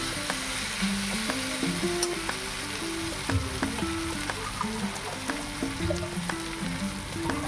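Spice paste for a prawn dish sizzling in a pan as water goes in, a continuous close crackling fry with small pops and stirring taps, no talk.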